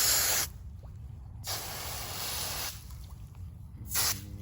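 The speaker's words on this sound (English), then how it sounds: "give me some spray here" Short bursts of hissing water spray, three of them, separated by quieter stretches with a low background rumble, while cleaning a chicken.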